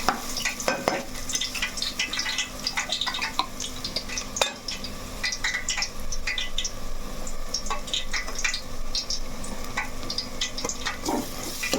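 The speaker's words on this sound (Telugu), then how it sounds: "ఇప్పుడైతే మనం మసాలా వేసేసుకున్నాం చూడండి చక్కగా వేగిపోయినాయి" Onions and masala for a chicken curry fry in a pan with a continuous close sizzle. A spoon stirs and scrapes against the metal with frequent clattering taps. No voices are heard.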